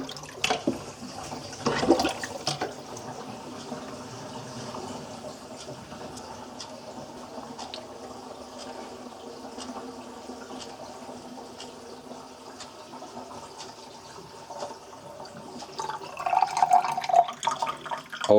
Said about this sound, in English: see how well these drain if you were to pull the stoppers on two sinks and have them draining